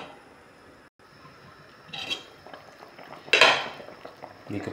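Metal lid set onto a cooking pot of tuna soup with Malabar spinach and lady fingers, a couple of brief clanks and scrapes over a quiet simmering background.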